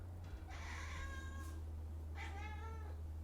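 A cat meows twice over a steady low mains hum, first a long drawn-out call and then a shorter one about a second later, both fairly clear with no talk.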